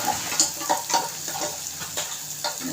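Onion sautéing in a pan for tomato kadhi, a steady sizzle with intermittent stirring and scraping sounds, close and moderately loud, with no voices.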